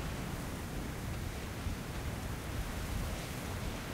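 Rain pours in the video game Metro: Last Light, a dense, even hiss of falling water with a low rumbling undertone, continuous and unbroken, with no talking.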